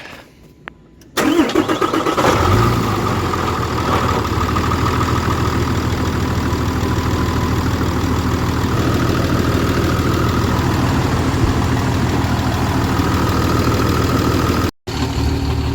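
A Suzuki GSXR600 motorcycle engine cranks briefly and catches about a second in, then settles into a loud, steady idle that runs close and unbroken, with only a momentary dropout near the end.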